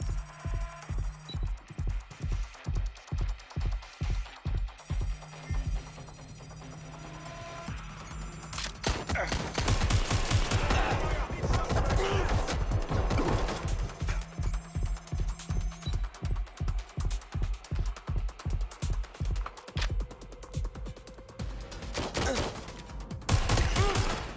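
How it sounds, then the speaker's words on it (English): Gunfire in Watch Dogs Legion: after a stretch of rhythmic pulsing, dense, sustained volleys of shots break out and run on loudly, with bursts continuing to the end. "Oh, shots fired."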